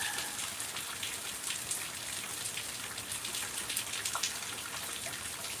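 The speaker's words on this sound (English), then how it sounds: "It's kind of just raining now." Steady rain falls during a thunderstorm, a dense, even hiss of drops pattering on surfaces close by, with no voices.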